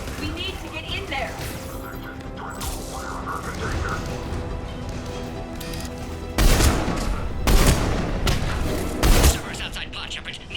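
Gunfire at a Cerberus checkpoint in the video game Mass Effect 3: a continuous din of firefight noise, then three heavy, loud bursts of shots near the end, with voices calling out beneath.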